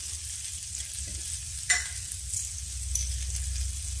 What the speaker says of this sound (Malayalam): ആ വെളിച്ചെണ്ണയിലിട്ട് നന്നായിട്ടൊന്ന് വഴിച്ചെടുക്കുക.